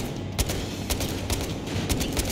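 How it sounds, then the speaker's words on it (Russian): Rapid bursts of machine gun fire in the video game Battlefield Hardline crack in a fairly regular rhythm over a constant noisy background. "очень-очень похож просто на звук стрельбы с пулемета"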